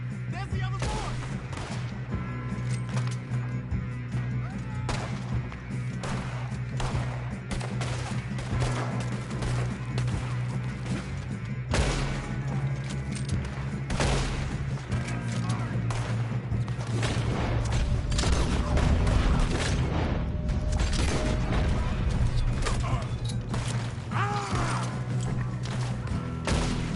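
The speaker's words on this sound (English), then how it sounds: "Shooting, kid." Gunfire in a Red Dead Redemption II shootout against the O'Driscoll gang, a dense, continuous fusillade of overlapping shots and crashes lasting the whole stretch, loud and busy with no pause.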